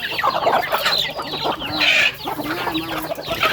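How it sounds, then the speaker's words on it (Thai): Chickens fighting on a small backyard farm: loud, agitated clucks and squawks burst close by in rapid, uneven flurries, with brief sharp cries over a scuffle. "โอ้ยไก่ตีกัน"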